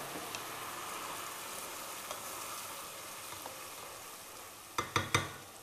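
Risotto rice sizzles gently in the pan as a ladle of stock goes in, a steady quiet frying hiss, ending with a few sharp clinks of the ladle against the pot.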